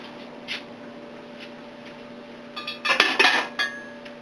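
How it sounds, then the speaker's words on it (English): Dishes clinking and clattering as a bowl or plate is taken out in a kitchen while tomato soup boils, a burst of close ceramic clinks near the end after quiet background hum. "let me get me a bowl."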